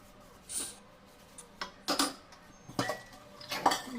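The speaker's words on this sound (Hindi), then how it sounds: "ये ऐसे सारा करके सारे बर्तन धो लूँगी मैं।" Dishes, pots and a kadhai are washed by hand, with sporadic metallic clanks, scrapes and utensil clatter in irregular bursts, close by and without talk.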